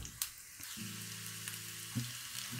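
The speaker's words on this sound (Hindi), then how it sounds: "जैसे ये थोड़ा सा दोनों क्रैकल हो जाए, जीरा जैसे ही थोड़ी सी क्रैकल हो जाए" Cumin seeds and ginger sizzle in hot oil for a mixed dal, a steady soft frying hiss with a few faint crackles and a low hum beneath, no voices.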